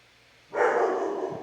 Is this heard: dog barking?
yes